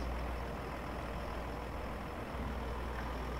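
Steady low rumble of heavy vehicle engines idling in Farming Simulator 19, a continuous droning hum that holds level throughout with no voices over it.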